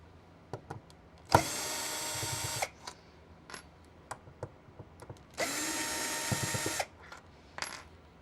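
A power screwdriver whirs in two loud bursts of about one and a half seconds each as it backs out the green screws of an original Xbox console, with small clicks and handling sounds between the runs.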